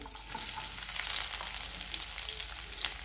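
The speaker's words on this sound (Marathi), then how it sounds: "आपण कढईमध्ये थोडंसं तेल टाकलेलं आहे कांदा भाजण्यासाठी कांदा टाकून घेऊया" Onions sizzle in a little hot oil in a wok with a close, steady crackling hiss and faint stirring, with no voices.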